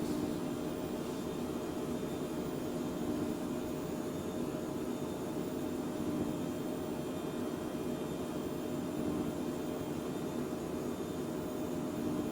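Phenom business jet engines held at takeoff power in a flight simulator, a continuous loud, even roar and whine with no variation and no voices.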